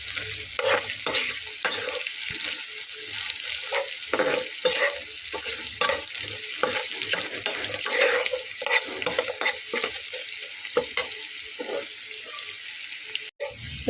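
Green chili dropped into hot oil in a frying pan for a Bengali kochu shak dish with hilsa fish head, giving a steady loud sizzle with repeated scraping stirs throughout.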